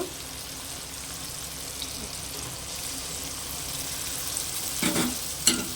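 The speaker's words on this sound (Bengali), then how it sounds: "এই অবস্থায় আমি যে মশলাটার পেস্ট বানিয়ে রেখেছিলাম, তো ওই পেস্টটা দিয়ে দেব" Tomato and a ground spice paste sizzle steadily in a pan in a home kitchen, with a soybean curry being cooked. The frying hiss is continuous and close, and a few sharp stirring clinks come near the end.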